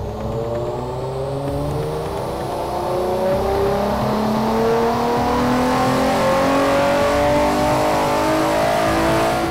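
Nissan 350Z engine revving hard during a nitrous test run, a loud close sustained rise in pitch that climbs steadily with no talk.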